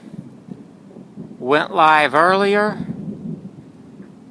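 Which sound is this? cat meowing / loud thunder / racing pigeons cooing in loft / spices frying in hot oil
loud thunder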